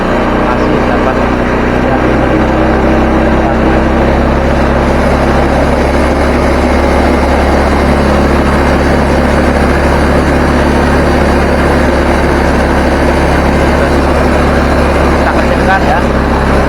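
A carbureted Honda Scoopy scooter engine runs loudly and steadily with a constant droning hum at raised revs during idle adjustment, close to the machine.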